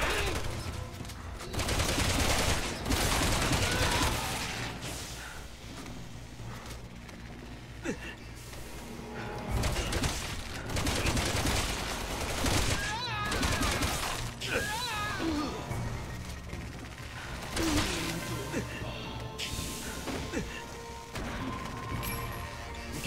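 Gunfire and crashing impacts from the Resident Evil 6 video game, dense bursts of shots and smashes through a busy combat scene with voices talking over the action.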